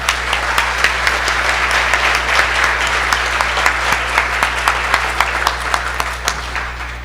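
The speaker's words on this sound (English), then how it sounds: "Could we get another round of applause?" Sustained, even applause from a conference audience at an academic freedom gathering, many hands clapping steadily at moderate distance with little talk over it.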